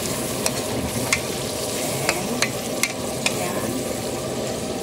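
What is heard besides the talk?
potatoes and carrots frying and being stirred in a pan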